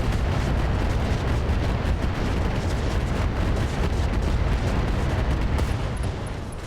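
Mech weapons, ATM missile launchers among them, fire together in a RogueTech battle. The result is a loud, dense, unbroken roar of blasts and booms that barely eases before the end.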